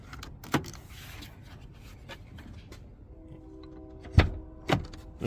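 A 2007 GMC Yukon door unlocks with a motor whir and then pops open with a couple of sharp clunks, heard up close with no talking.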